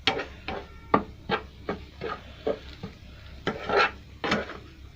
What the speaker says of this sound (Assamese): এতিয়া চেনিখিনি দি ভালদৰে লৰাই থাকিব অকণমান, তেতিয়াহে জ্বলি নাযায়।